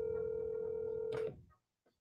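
A telephone line on an unanswered call gives a steady electronic tone for just over a second, then cuts off abruptly with a click and a brief faint tail, close and alone.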